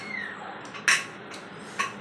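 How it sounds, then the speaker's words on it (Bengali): A pressure cooker is lifted out from among metal pots in a kitchen, giving two short, bright metallic clanks about a second apart against a quiet room. "এইবারে নিচ্ছি প্রেশার কুকার।"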